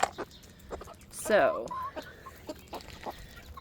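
Backyard chickens, including young roosters, cluck softly nearby with scattered short calls and one louder squawk partway through, while a person talks quietly.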